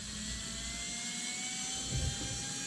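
A small Tamiya Super Stock BZ hobby motor spins at 8 volts, producing a steady, close, high-pitched electric whine with a constant tone throughout.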